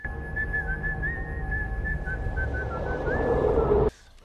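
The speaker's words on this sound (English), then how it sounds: "keeps whistling the same damn tune" Someone whistles a wavering melody over a low background rumble, the tune continuing for a few seconds before cutting off abruptly.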